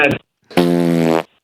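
A recorded fart plays on a radio show as one loud, buzzy blast lasting about half a second, after a brief clipped sound and a short silence.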